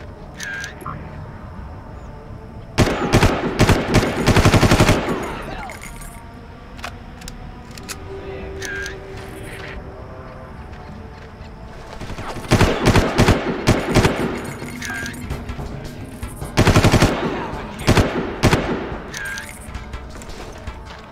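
Bursts of rapid gunfire in the Far Cry video game, set in a jungle, crack out in several loud clusters separated by quieter stretches of ambient game sound.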